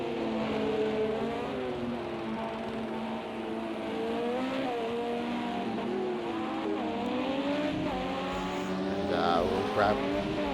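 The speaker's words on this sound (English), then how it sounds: "Just go up on board as well of the Porsche of Dark Racing 40 as he comes into Brooklands here." On-board engine of a Porsche race car in an endurance sim race at Silverstone, a steady droning whine with rising and falling revs through gear changes, continuous and close throughout.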